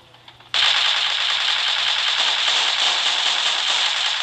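After a brief quiet start, a loud, unbroken burst of rapid automatic fire from an Uzi and M16 in the mobile game FortCraft roars on for several seconds; no talking.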